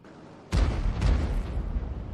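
A single booming French artillery shot from a Batchat 155-55 in World of Tanks, a sudden heavy blast with a rumbling tail and a second thump shortly after, loud and close.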